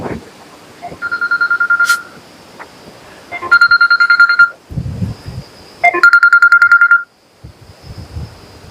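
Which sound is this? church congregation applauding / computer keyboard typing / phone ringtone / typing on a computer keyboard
phone ringtone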